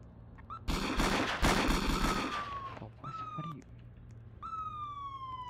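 Gunfire from a role play video game, a dense burst of rapid shots followed by sliding whistle-like electronic tones and siren-style game sounds.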